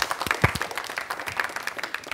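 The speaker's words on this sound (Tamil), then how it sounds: "ஸ்பெஷல் கைத்தட்டு எல்லாத்துக்கும்." Studio audience applause for children taking part in the Tamil TV game show Kutties Galatta, a steady patter of clapping with a few sharper claps standing out, moderately loud and close throughout.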